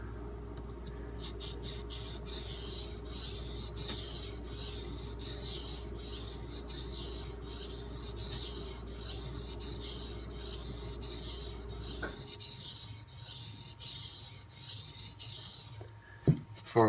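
A knife blade is rubbed back and forth across a 1K Norton water stone in repeated rhythmic strokes, a close gritty rasping that stops near the end, followed by a few sharp handling knocks.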